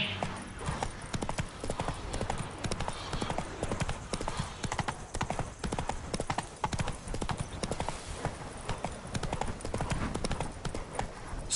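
Galloping horse in The Witcher 3: continuous, fast, rhythmic hoofbeats pound close and loud for the whole stretch, with faint game ambience beneath.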